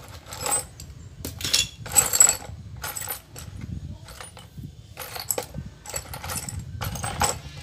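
Small metal bolts clink and tap in scattered bursts while a Suzuki Supra motorcycle engine is assembled by hand, with a low hum of the workshop underneath.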